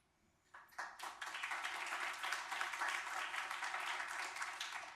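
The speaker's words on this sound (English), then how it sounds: "A huge round of applause for her once again" An audience at a DuPage County Board meeting breaks into applause after a proclamation, with dense, sustained clapping that starts abruptly and continues strongly to the end.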